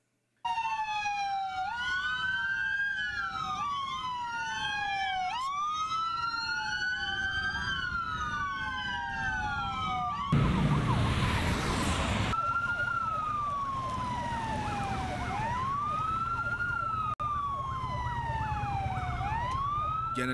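Wailing police patrol car and fire engine sirens from a funeral escort of about twenty vehicles overlap continuously and loudly, rising and falling in sweeping cycles, with a brief burst of rushing noise in the middle.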